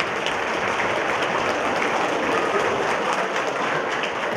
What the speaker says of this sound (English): why don't we give our parents a round of applause